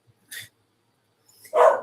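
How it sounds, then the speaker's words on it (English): A dog barks twice, a short faint yip followed by a louder, fuller bark after a pause, with near silence between. "my dog is barking at"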